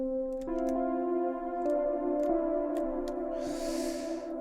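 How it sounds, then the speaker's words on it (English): A soft synth pad preset from the Peaceful Keys pack holds sustained chords for ambient downtempo music, with notes changing every second or so. Faint clicks sit under it, and a brief airy wash swells near the end. "Okay, so the second element I added was this pad sound."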